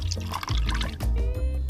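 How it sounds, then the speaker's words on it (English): Milk is poured into a measuring jug while making pancakes, a close, continuous liquid gurgle and trickle with a few small splashes. "Possum, we need to measure and see how much milk we need"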